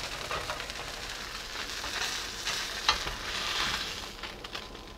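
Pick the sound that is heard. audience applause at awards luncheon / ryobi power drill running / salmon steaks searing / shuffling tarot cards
salmon steaks searing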